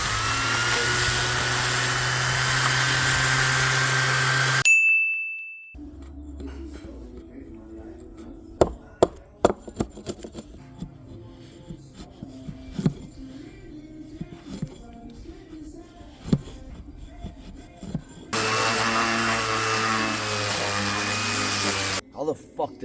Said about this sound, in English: So now we've got a functioning sander.